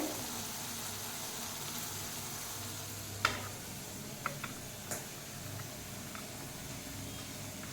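Butter melting and turning into homemade ghee in a pan, a faint steady sizzle and bubbling with a few sharp ticks and spoon taps, quiet and close with no talking.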